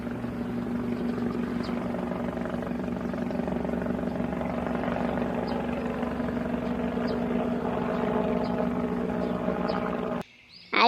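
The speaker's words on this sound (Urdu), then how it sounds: "دوسری طرف ٹونی چڑیا ہیلی کاپٹر میں کالو کوے کو لینے چلے آتے ہیں" A cartoon helicopter sound effect plays: a steady, loud rotor thump with a droning engine hum that runs unbroken for about ten seconds before cutting off.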